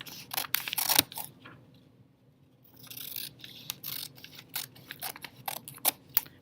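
Scissors cut paper along lines in a series of short, crisp snips, closely miked, with a quiet pause in the middle before the cutting resumes in quick irregular bursts.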